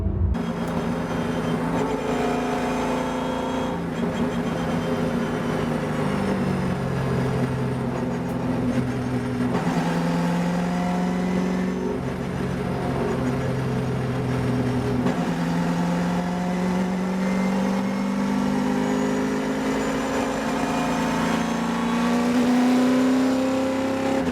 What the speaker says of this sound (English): get the car nice and warmed up